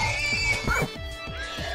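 A horse neighs in a Minecraft UHC match, a loud whinny with a rapidly repeating pulsing rhythm that lasts most of the moment over a steady game backdrop, with no talk over it.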